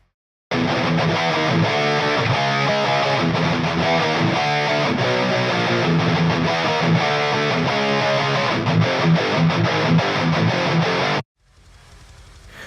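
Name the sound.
double-tracked metal electric guitar with free plugins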